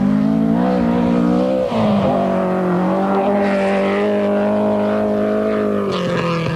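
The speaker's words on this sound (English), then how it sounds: "The first two-wheel drive car on the road is David Owen's battered Escort." A battered two-wheel drive Ford Escort rally car races along a gravel rally stage in New Zealand, its engine loud and close, revving hard with a gear-change dip partway through and continuing to scream at high revs.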